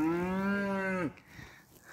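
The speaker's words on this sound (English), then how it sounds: "The cows are guarding the gate." One long, close cow moo near a farm gate lasts about a second, then gives way to quiet outdoor background.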